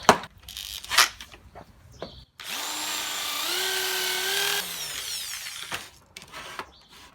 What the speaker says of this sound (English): Let me get a brass one and see what the brass will do.